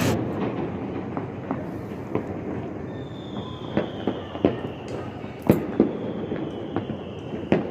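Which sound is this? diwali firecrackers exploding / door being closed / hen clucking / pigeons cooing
diwali firecrackers exploding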